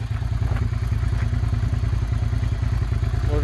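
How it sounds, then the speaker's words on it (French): Warm Suzuki SV 650 motorcycle engine idling just after starting, a close, steady, rhythmic low-pitched thumping chug that holds constant with no talk. "On va vous la démarrer, bougez pas."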